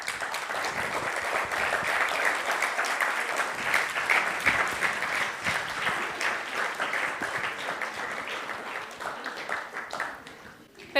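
An audience applauds a speaker at a talk about Rodrigo Moya, with a dense, steady wash of many hands clapping throughout before it begins to thin at the very end.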